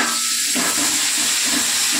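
Cumin seeds and chopped onion hitting hot oil in a pan, a loud, continuous close sizzle with a broad steamy hiss throughout, no talking.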